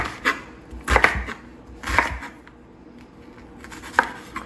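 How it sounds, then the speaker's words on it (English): A knife chops through an onion on a cutting board in a home kitchen, with about four close, distinct chops spaced roughly a second apart and no talk. "we're going to basically just chop right on through"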